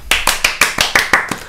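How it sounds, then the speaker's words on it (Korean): Sparse, late clapping from a small audience at a Korean education talk and reading session: about nine distinct, fairly loud claps at an uneven pace, with no voices. "뭘 보다가 이렇게 박수를 늦게 치고 그러고"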